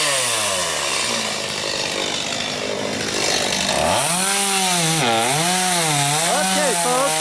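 A chainsaw cuts up a felled tree, its engine whining steadily and then revving up and down in wavering pitch as it bites into the branches and trunk sections.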